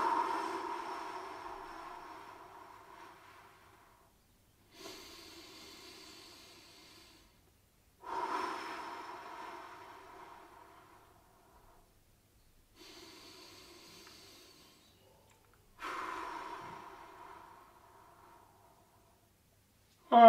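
Slow, deep breaths during a seated gentle stretching exercise, heard close as several separate, long breathy inhales and exhales that fade out, each followed by a few seconds of near silence.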